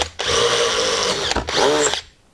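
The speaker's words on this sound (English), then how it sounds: "I could just do it with a battery operated drill" Cordless battery drill boring 6mm holes into a wooden track-saw guide rail, a steady close whine running almost two seconds, a brief dip, then a second shorter burst before stopping.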